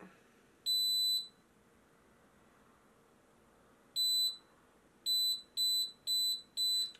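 Xtool laser fire kit alarm at level 2: one long high electronic beep, a pause, a pair of beeps, then a quickening run of four sharp tones, loud and alone against a faint room hum.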